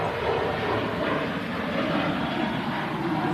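A business jet taxis at an airport, its engines giving a steady, even whine and roar at moderate distance that holds constant with no talk over it.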